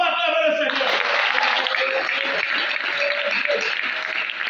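A church congregation applauding during a Sunday service, sustained loud clapping from many hands that follows a voice briefly speaking at the start.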